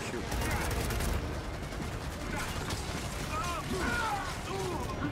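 Gunfire in Gears of War 4 on a hardcore campaign prologue: dense, continuous shooting and mechanical clatter fill the scene at steady loudness, with in-game voices calling out over the battle.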